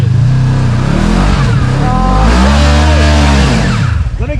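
An off-road vehicle on a steep hill at an off-road park in Kentucky revs hard while brake torquing, a loud, close engine roar rising and falling in pitch and sustained throughout.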